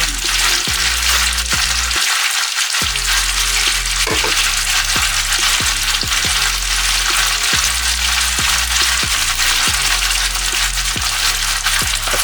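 A skinless mahi mahi fillet pan-frying with garlic, onions and adobo seasoning, giving a loud, steady sizzle with scattered spatter pops and a brief break in the frying noise about two seconds in.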